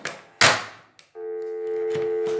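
A phone line being dialed on a live call-in show: a sharp click and a short tone, then a steady sustained dial or ring tone holding until the end.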